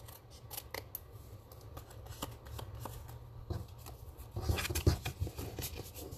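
Scissors snipping paper for a Stampin' Up holiday card, a quiet close series of crisp irregular cuts with a louder cluster of snips near the end, no talking.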